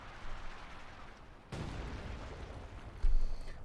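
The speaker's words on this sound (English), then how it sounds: "They're getting hammered by Zyswen's Royal Artillery." Royal Artillery shelling in Company of Heroes 2, a World War II strategy game: distant booms land amid a low battlefield rumble, with a sharper impact near the middle and another toward the end.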